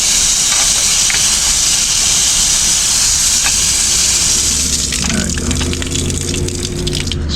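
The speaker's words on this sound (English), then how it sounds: "Let some water flow through here real quick." Water gushing from an outdoor spigot during commercial window cleaning with a water-fed pole, a loud steady hiss and rush close by, the flow shifting and a lower rumble rising near the end.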